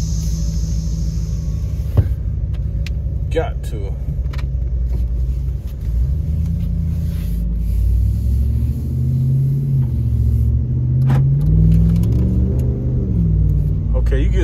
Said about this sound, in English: I'm hearing it sucking in the air.